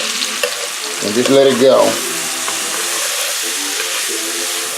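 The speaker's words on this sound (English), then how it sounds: "Going to stir it." Chopped celery stirred around a hot skillet, a loud, close sizzle with scraping as the spoon works through it, briefly swelling and then settling into an even frying hiss, with a few words spoken.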